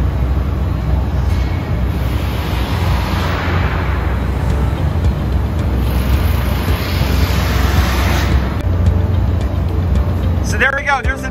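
A Freightliner school bus chassis drives past: steady, loud engine and road rumble runs throughout with broadband whoosh swelling and fading, and a brief rattle at the very end.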